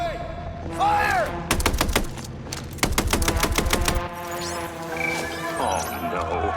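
Gunfire in the action game Mindseye, rapid bursts of loud, sharp shots in quick rhythmic volleys, separated by a pause, with whooshing effects and game voices around them.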